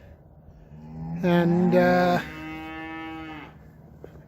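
A freshly weaned calf moos loudly nearby at a hay bale, one long drawn-out call that rises and then trails off, with a farm setting quiet around it.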